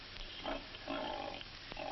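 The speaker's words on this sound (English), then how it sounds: "Over here, Ann is busy grooming her pigs." Pigs being groomed at a county fair in 1947 give low grunts, soft and somewhat distant, a few short snorts over a muffled background.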